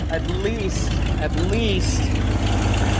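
A 1987 Ford F150 engine idles with a steady low rumble and a raspy exhaust leak, running throughout under a man's speech.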